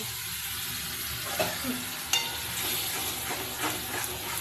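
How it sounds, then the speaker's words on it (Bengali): Hot oil sizzles steadily as something is fried and stirred in a pan, giving a close, continuous hiss broken by a few spatula scrapes and clicks. No one speaks. "এবার আমি এটা তেলের মধ্যে আমি দিয়ে দেবো দিয়ে ভালো করে আমি নাড়াচাড়া করে নেব"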